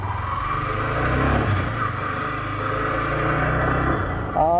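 A Yamaha R15 V3 motorcycle engine accelerating, a steady loud drone with rising harmonics held for about four seconds, a brief higher whine near the end.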